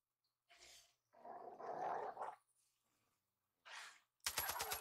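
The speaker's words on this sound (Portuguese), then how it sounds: "Vem outro lobo. A gente mata." A wolf in the video game Far Cry 5 growls and snarls in a few rough, close bursts with short gaps between them, followed by a sharp rapid rattle at the end.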